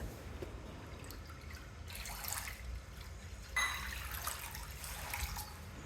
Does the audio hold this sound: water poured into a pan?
yes